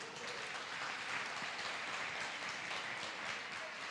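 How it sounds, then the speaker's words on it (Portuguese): Church congregation applauding in praise during a Portuguese-language sermon, a steady, even patter of many hands sustained throughout, fairly faint and distant with no voices over it. "aplauda o Senhor por isso."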